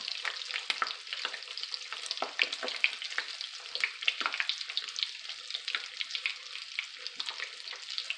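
Battered keto zucchini fries sizzle in hot oil over lowered heat, a steady bright crackle with dense popping bursts throughout, close and alone with no voices.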